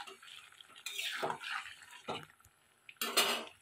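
Water is poured into a pan of neem curry with fried brinjal, making several short splashing gushes with metallic clinks of the pan in between, close and fairly quiet.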